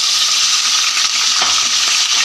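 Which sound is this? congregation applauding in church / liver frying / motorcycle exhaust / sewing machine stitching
liver frying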